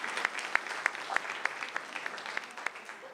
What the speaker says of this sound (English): give me a clap for that